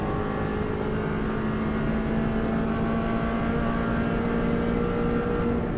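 A Subaru WRX STI rally car engine roars steadily at high revs at full throttle in fifth gear on the Isle of Man TT Course, loud and continuous with a droning tone, no voices over it.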